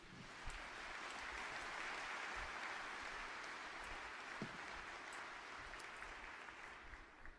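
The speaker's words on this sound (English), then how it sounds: "Nobody asked them to clap and to applaud." A large audience at a political speech clapping in sustained, dense applause that holds evenly throughout before easing slightly at the end.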